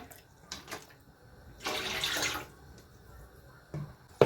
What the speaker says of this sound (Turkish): 4 su bardağı da sirke ekleyeceğim.